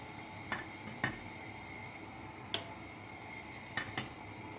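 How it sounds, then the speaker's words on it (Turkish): Melted butter goes into a pot of ezogelin lentil soup, which is then stirred. About half a dozen faint, sharp metal clinks of a spoon against the pot ring out over a quiet background. "Yağımı da içine ilave edip güzelce karıştırdıktan sonra servise hazır."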